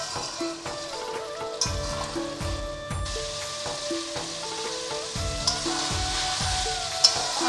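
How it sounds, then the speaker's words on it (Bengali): Potatoes and eggplant sizzle steadily in a frying pan while being stirred, with repeated scraping strokes of a spatula over the continuous close frying hiss. "একটু নেড়ে দিচ্ছি।"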